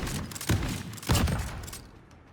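Gunfire in a shooter video game 1v1 gunfight: two loud, sharp bursts about half a second apart, each followed by rattling decay that fades quietly toward the end.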